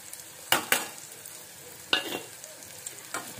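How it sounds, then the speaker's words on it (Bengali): Chopped onion and garlic fry in a pan with a soft continuous sizzle, broken by a few sharp scraping stirs of a spatula that come up close and loud. "এটা একটু ভালো করে ভেজে নিতে হবে।"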